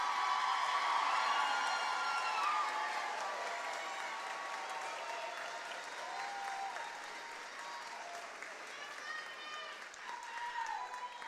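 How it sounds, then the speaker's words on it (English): A large crowd at a graduation commencement ceremony applauds steadily, loud at first then easing slightly, with scattered whoops and cheers throughout. "Let's give them a big round of applause."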